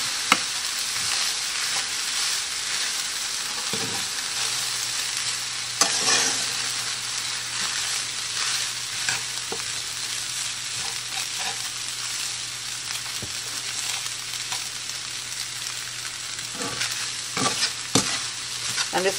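Honey garlic sesame chicken sizzling hard in a pan on high heat, a dense steady frying hiss broken by occasional scraping stirs, close and continuous with no talking.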